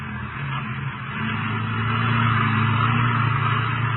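A truck engine rumbles steadily in an old radio drama scene out on open range, the low drone building gradually in loudness and holding near and even with no voices over it.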